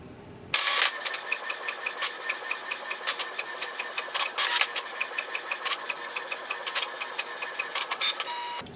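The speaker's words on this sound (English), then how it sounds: "So here we can see it has done the printing." Canon Pixma TR4720 inkjet printer printing a document: after a brief quiet start, a steady mechanical whir with a rapid series of sharp regular clicks and ticks from the print head and paper feed, close and alone.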